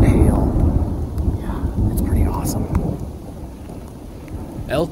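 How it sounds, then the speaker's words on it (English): A thunderstorm rolls through elk country during hunting season, heavy rain and hail hissing continuously while deep thunder rumbles loudly at close range. "Epic scenario here, though, with this storm coming through, all this thunder and lightning"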